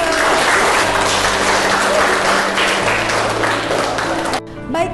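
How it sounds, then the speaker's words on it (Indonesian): A classroom full of students applauds together, a dense, steady clapping that fills the room for several seconds before thinning out near the end. "Tepuk tangan untuk kita semua."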